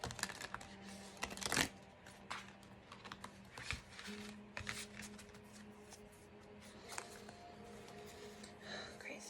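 Tarot cards being shuffled by hand in a quiet room, giving sparse soft riffling and flicking bursts with one sharper slap early on, close and fairly faint, with no talking.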